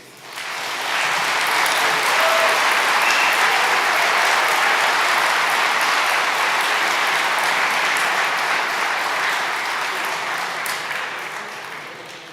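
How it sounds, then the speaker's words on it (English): A large audience applauds at a university graduation ceremony, steady dense clapping that rises quickly, holds loud and even for over ten seconds, then begins to taper slightly at the end, with no talk over it. "And I think they deserve a round of applause, don't you?"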